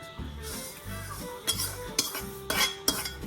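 Roasted sesame seeds tipped and scraped into a dish with a metal utensil, a series of close clinks and taps with soft rattling scrapes between, several sharp knocks toward the end.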